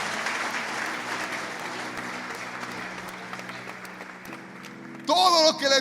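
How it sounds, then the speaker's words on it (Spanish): A church congregation applauds during an evangelist's sermon, a dense, steady wash of clapping that fades slightly before a voice cuts in loudly near the end. "Dale un aplauso al Señor por eso."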